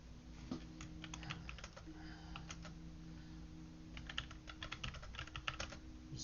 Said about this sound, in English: just typing this in here